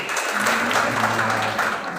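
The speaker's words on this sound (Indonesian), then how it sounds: "Boleh tepuk tangan dulu untuk kepala madrasah" A hall full of attendees at an education funding session applauds madrasah principals with a steady, dense wash of clapping that holds throughout.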